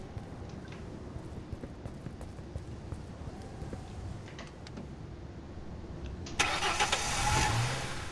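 A low car engine in a driving video game idles and rumbles steadily, then swells sharply near the end as it revs up, with faint clicks scattered throughout.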